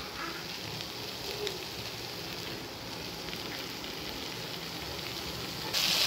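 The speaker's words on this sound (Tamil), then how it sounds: "தக்காளி நல்லா சாஃப்டாக ஆகிற வரைக்கும் வதக்கணும்." Tomatoes and onion sautéing in a pan for Tamil kara chutney give a steady, even sizzle that runs unbroken throughout, brightening slightly at the very end.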